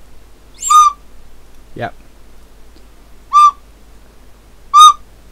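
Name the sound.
toddler toy flute being played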